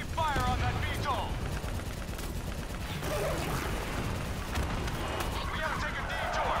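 Sustained rapid gunfire aimed at a VTOL aircraft in a video game, dense and loud, with bursts overlapping continuously and other game noise and voices mixed in.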